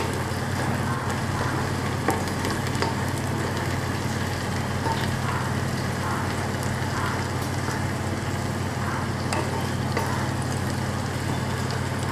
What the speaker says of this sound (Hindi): अब हम इसमें डालेंगे लहसुन अदरक का पेस्ट। इसे अच्छे से मिलाते रहेंगे।